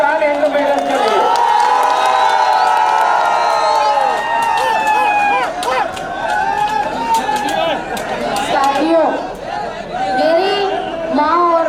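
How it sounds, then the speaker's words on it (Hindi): A rally crowd greets a speaker named Shaan e Hind with loud cheering, whoops and shouting, sustained and dense throughout, with excited voices and chatter mixed into the roar. "भरपूर तालियां बजाएं शान हिंद मैडम के लिए"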